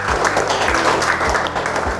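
Classroom students clapping for their classmates, a brisk burst of fairly loud, close applause with a quick rhythmic pulse to some of the claps, lasting about two seconds.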